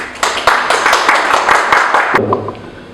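An audience claps steadily as two guests walk onto the stage of a televised news talk show. The applause is loud, dense and continuous for about two seconds, then drops away quickly into quieter room sound.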